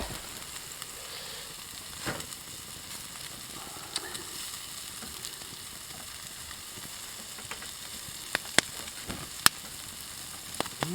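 Food frying in a pan over an open campfire, with a soft continuous sizzle and crackle throughout, plus a few sharp pops and snaps from the fire near the end.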